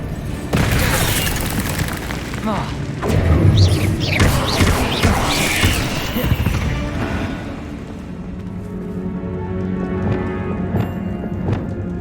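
Bombarda spell blast in the video game Hogwarts Legacy, a loud booming impact with rumbling debris and clattering effects over continuous game noise, fading into a quieter ambient bed.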